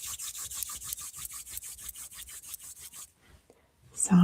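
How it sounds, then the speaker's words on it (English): Palms rub briskly together during a short guided meditation, about fifteen rhythmic dry swishes close to the mic. They stop abruptly, followed by near silence and the start of a voice. "Rub your hands together."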